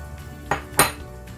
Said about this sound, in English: Adding the meatballs in.